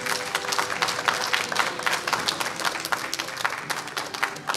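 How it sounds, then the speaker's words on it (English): Congregation applauding in church during a graduation recognition, a steady dense round of clapping from many hands filling the room, moderately loud and sustained throughout. "let's give him a congratulatory round of applause."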